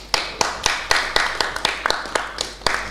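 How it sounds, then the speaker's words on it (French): Sharp handclaps in a steady, rhythmic beat, roughly four per second, from a small group at a Congolese sape fashion gathering, close and fairly loud with a faint murmur underneath. "Est-ce qu'on peut l'applaudir quand même?"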